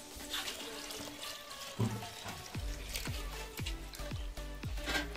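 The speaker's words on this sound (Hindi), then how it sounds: "और इसमें पानी डालेंगे।" Water is poured into a simmering rohu fish curry gravy with mustard masala, a continuous close splashing flow followed by rhythmic bubbling pops as the liquid heats.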